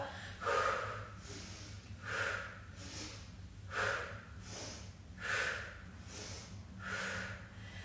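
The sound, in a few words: breathing in and out through the mouth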